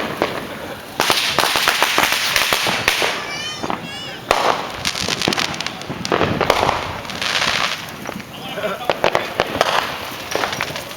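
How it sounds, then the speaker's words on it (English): Fireworks burst repeatedly outdoors in sharp, loud cracks and pops with crackling trails and a few whistling rises, fairly close, while people talk and shout nearby. "with fireworks right behind them."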